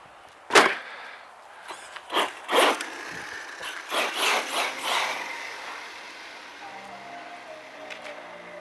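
Arrma Mojave EXB RC car on its first run, a series of short electric motor bursts and tyre scrapes rising and fading, then settling into a quieter steady hum, fairly close.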